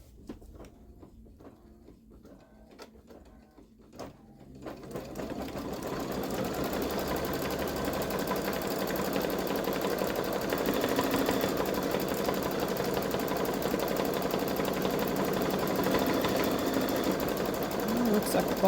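A Baby Lock Solaris embroidery machine sews satin stitches, starting after a few seconds of quieter clicking and then running as a steady, close, loud mechanical whir with rapid needle rhythm that continues to the end.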